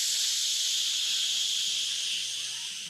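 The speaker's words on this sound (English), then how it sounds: "Steam release." A steady, loud steam-release hiss, a broad rushing sound that holds evenly for about three seconds before cutting off abruptly, with nothing else heard.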